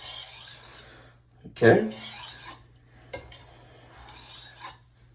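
A kitchen knife sharpened on a whetstone, giving a few short scraping strokes with brief pauses between them, close up, and a voice speaking briefly.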